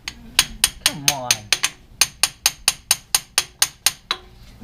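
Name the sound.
hammer striking stuck car part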